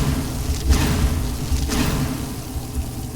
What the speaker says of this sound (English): My Ice Storm should make quick work of this flame Atronak.